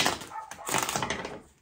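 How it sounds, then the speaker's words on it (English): A dog barks somewhere in the background of an indoor room, its yips and barks blurring together and continuing for about a second and a half before fading out. "Sorry for the barking in the background."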